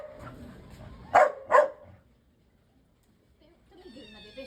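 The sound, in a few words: dog barking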